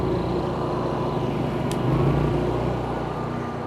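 Two portable generators powering HMI lights run with a steady, droning engine hum and low mechanical rumble, holding an even level throughout with a slight swell midway.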